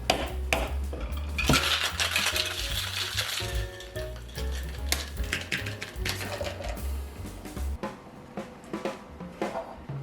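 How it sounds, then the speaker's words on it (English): An Aviation cocktail is shaken hard with ice in a cocktail shaker, producing a loud, fast, rhythmic rattle of ice against metal that continues for about eight seconds before slowing into a few final knocks. "this drink is shaken. All right, time to shake it up."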